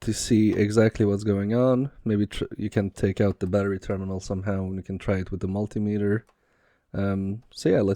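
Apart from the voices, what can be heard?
No distinct noise like a dog, phone or traffic.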